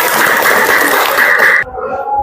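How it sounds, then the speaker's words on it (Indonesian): A ninth-grade class in an Indonesian school bursts into dense, close applause for about a second and a half, then it cuts off sharply into quieter room sound. "Baik, tepuk tangan."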